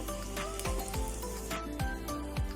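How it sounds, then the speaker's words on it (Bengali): Whole cumin seeds and dried red chillies crackle in hot oil in a kadai while tempering, a steady close sizzle with brief sharp pops and scraping strokes scattered throughout, no voices. "তেল গরম হয়ে গেছে এখানে গোটা জিরে আর শুকনো লঙ্কা ফোড়নে দিয়ে দেবো হিং দিয়ে দেবো"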